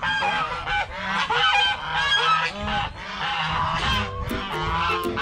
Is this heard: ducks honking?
yes